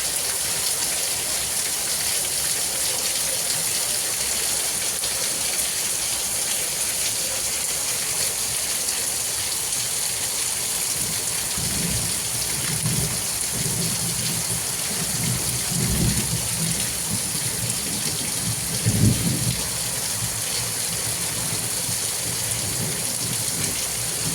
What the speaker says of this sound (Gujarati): તો જોયો કેવો વરસાદ છે